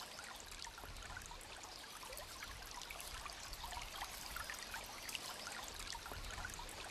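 Water trickling in a cool, shady stream, a soft, steady, faint babble with scattered small splashes and no voices.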